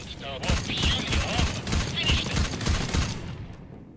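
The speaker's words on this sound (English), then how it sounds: "Oh, shots over there." Rapid gunfire from a PvP video game shooter using the Sweeper weapon, a steady rattling stream of close, punchy shots that fades out at the end.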